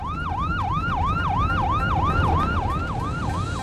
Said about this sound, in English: When he heard the siren, the off-duty paramedic pulled over.